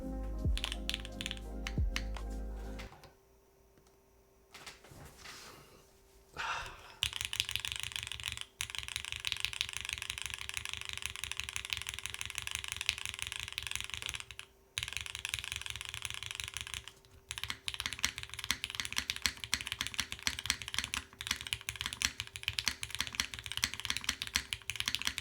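Rapid, continuous clacking from typing on a custom Babylon mechanical keyboard, close and crisp, with a short pause near the start and brief gaps midway.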